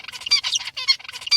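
Zebra finch tutor song, a rapid run of bright harmonic chirps and buzzy syllables in close succession, loud and near over faint low background hum.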